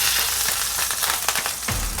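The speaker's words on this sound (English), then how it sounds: "so we can get a nice sear" Beef sears in an Instant Pot with a bright, steady sizzle crackling throughout. Small clinks and scrapes come through near the end, and nobody speaks.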